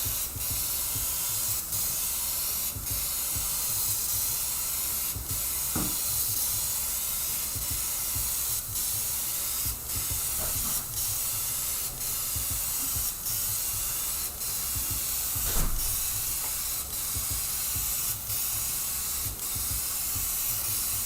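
An airbrush spraying paint in building coats onto a Joker-themed panel: a steady, close hiss broken by brief regular pauses between passes, with no talking.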